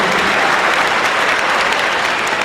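Loud, sustained applause from a church audience, a dense, steady wash of many hands clapping at once throughout, with no voices standing out.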